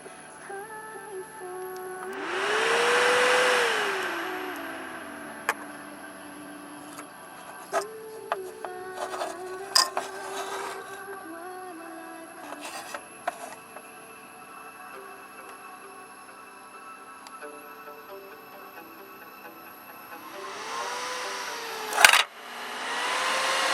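Small 12–24V electric fans on a PWM speed controller whir steadily with a tonal hum, their pitch swelling and sliding as the speed changes, with occasional faint clicks.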